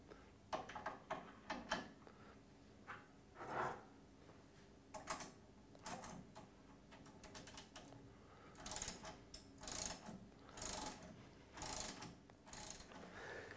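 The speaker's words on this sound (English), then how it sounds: "remove the shock absorber piston rod nut using the correct tooling as demonstrated" A ratchet tool works on the piston rod nut of a car shock absorber, giving quick runs of close, crisp clicking, followed by several separate bursts of ratcheting.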